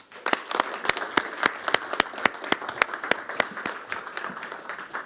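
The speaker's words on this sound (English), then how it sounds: "please once again give a warm hand of applause" Audience applause at a hackathon conference event, a steady patter of many hands clapping with sharp individual claps standing out, moderately loud and continuing evenly for several seconds.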